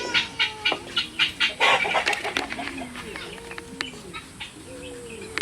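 Chickens cluck and call around a homestead yard, a run of short clucks close by at first, then softer scattered calls with brief voices in the background.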